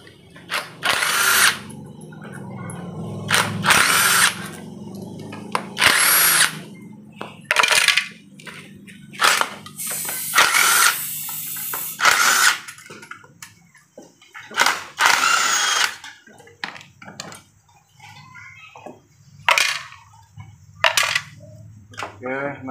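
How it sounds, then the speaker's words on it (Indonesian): Power tool bursts from a drill or impact driver removing 10 mm body locking bolts on a motorbike during a repair, repeated short whirring runs with gaps and small metallic clinks between them, close and fairly loud. "kita lanjut ke buka uh, baut pengunci palok body ya baut sepuluhnya"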